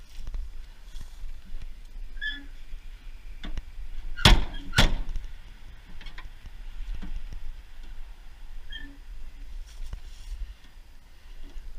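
A rusty 1993 Chevy S-10 pickup's tailgate shifts with two quick metallic clunks close together, against low outdoor wind noise and faint background sounds.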